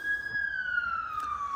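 A police car siren wails steadily outside, a single long falling tone with clear harmonics, fairly loud and alone.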